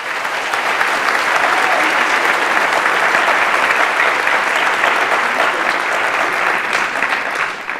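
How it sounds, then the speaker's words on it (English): Sustained applause for the choir at a university engineering faculty graduation ceremony, a large crowd clapping loudly and evenly throughout without a break. "Another round of applause for our world-class choir"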